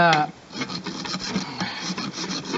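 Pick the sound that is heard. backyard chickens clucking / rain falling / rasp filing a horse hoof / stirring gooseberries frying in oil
rasp filing a horse hoof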